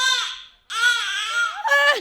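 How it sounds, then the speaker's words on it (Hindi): A baby cries loudly and close by in two wailing bursts with a brief gap between them. The cry ends on a rising, strained whimper. "बेबी रो रहा है"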